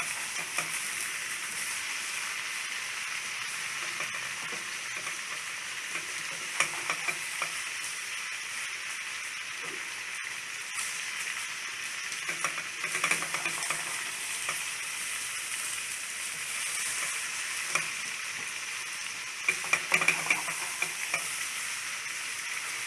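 Soaked rice is turned through spices and green jackfruit in a pot, with a soft, steady sizzle and occasional light scrapes of the spoon against the metal.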